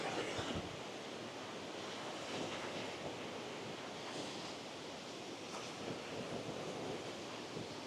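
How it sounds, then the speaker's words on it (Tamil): Cold wind blowing steadily over an open bridge near a hidden beach in Batticaloa, a constant broadband rush with gusting swells and microphone buffeting, with no voices. "குளிர்காத்து அடிச்சு கொண்டிருக்கு."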